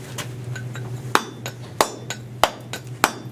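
Steel chisel struck by a hammer against stone, a string of sharp, ringing metallic clinks at an uneven pace, close and fairly loud, with no one speaking.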